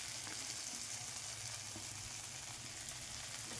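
Ginger garlic paste sizzles in a hot pan while being stirred, a faint, even, continuous frying hiss with no talk.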